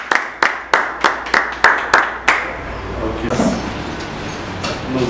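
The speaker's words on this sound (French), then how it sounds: "Sous vos applaudissements." Sharp, evenly spaced claps ring out, then give way to a softer, scattered round of applause with background voices at a farewell gathering in a French- and Lingala-speaking community.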